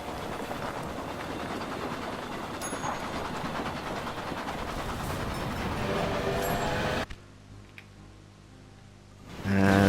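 An Iron Duke steam locomotive runs in the Railway Empire video game: a loud, steady rumble of rolling wheels and engine that cuts off abruptly near the end, giving way to quieter ambient music.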